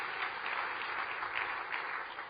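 Audience applause at a celebration of the 50th anniversary of JFK's presidency at the Kennedy Library; a brief, steady wash of clapping, moderately loud, with no talking.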